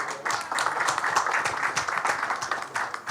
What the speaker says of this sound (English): please give a huge round of applause for all our esteemed dignitaries with us today